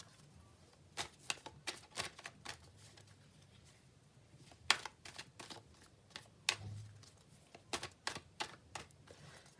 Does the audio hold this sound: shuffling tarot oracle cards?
yes